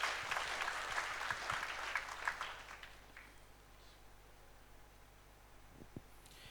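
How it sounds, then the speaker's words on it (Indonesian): A congregation claps during a Sunday worship service in a church, a soft, fairly distant wash of applause that fades away after about three seconds, leaving quiet room tone with a few faint knocks. "Berikan tepuk tangan untuk Yesus Tuhan kita."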